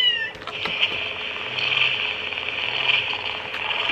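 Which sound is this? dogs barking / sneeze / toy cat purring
toy cat purring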